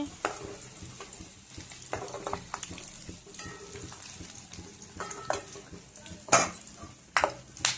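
Almonds and spices frying in a pan, with a steady close sizzle broken by stirring scrapes and a few louder clinks of a utensil against the pan.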